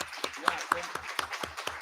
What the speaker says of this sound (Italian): gli farei l'ultimo applauso